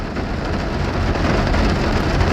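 Steady, heavy rain pours down in the city of Padang, a dense, even hiss that stays loud and close throughout with no voices.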